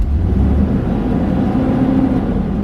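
A parked car's engine on an older OBD-I vehicle rises briefly as the throttle opens, a close, loud low rumble that swells early and then settles back to a steady idle hum.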